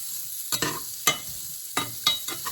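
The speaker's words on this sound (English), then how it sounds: "these started sizzling as soon as I put them in the skillet" Hot dogs sizzle in a hot skillet with a steady hiss, broken by several sharp clinks and scrapes of a utensil against the skillet.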